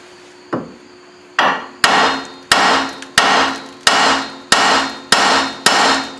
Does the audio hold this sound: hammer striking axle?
yes